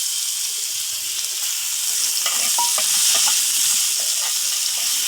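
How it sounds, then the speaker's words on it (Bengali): Onion, garlic and bay leaves fry in hot oil for a tempering and get stirred in the pan: a constant bright sizzle with scraping stirring strokes that grow busier midway, close and with no talk. "আমি এখন এর ভিতরে মানে এটা ফোড়ন দেওয়ার জন্য পেঁয়াজ রসুন ভাজা নেব।"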